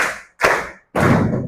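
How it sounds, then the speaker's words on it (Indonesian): Elementary school class doing a counting clap chant before a coding lesson, in two loud, close bursts of group clapping separated by brief pauses. "Sebelum belajar, kita mau tepuk-tepuk dulu."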